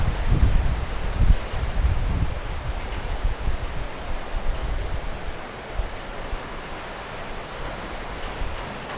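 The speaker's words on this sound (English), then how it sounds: "Oh, a little wind coming through now." Wind gusts rush through banana plants during Super Typhoon Uwan (Fung-Wong) in Angeles City, a steady broadband rustle that is strongest in the first seconds and then settles into a softer continuous hiss, with no voices.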